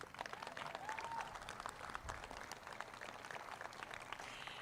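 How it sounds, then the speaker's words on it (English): Applause from a high school graduation audience honoring long-time students, fairly quiet and diffuse, with scattered clapping and crowd murmur running steadily through the whole stretch. "Round of applause to these King-Chavez lifers."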